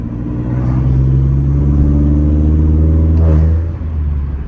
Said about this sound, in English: I don't know if you guys can hear it, the air intake.